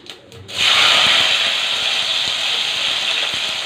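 Chopped onions hit hot oil with cumin and tempering spices, setting off a sudden loud, steady sizzle that holds at an even level for several seconds, close to the pan.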